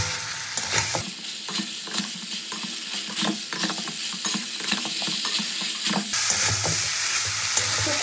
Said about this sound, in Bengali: এবার সব উপকরণ দিয়ে একসাথে মশলাটাকে কষাবো।